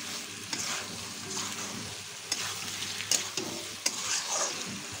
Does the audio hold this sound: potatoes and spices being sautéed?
yes